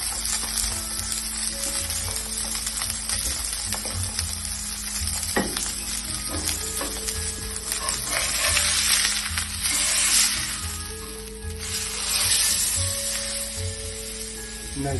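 Salmon sears in a hot pan alongside a risotto, a loud continuous sizzle and crackle with intermittent stirring, swelling briefly in intensity partway through, with no talking.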